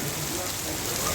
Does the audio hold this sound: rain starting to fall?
yes